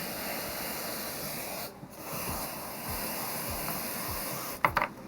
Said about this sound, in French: De refroidir avec la bombe à froid.